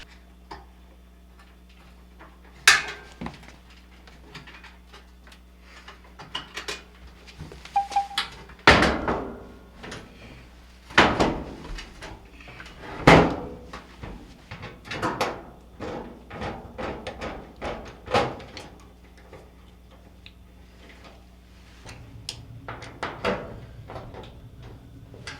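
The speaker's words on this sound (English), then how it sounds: "now you can reattach the front of the unit" Front panel being refitted to a Maytag dryer: scattered plastic and metal clicks, taps and knocks at irregular intervals, some sharp and close, over quiet background.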